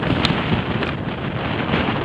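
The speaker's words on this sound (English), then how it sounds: "Here comes a big gust right now." A big gust of wind in cold, stormy weather buffets a boat, a loud, blustery roar with rumbling microphone buffeting and a few brief sharper flutters, no talking.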